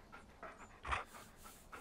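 A wolf pup in the Far Cry Primal video game pants in quick, soft bursts that repeat at a steady rhythm, with one louder breathy puff near the middle, heard up close with no talking.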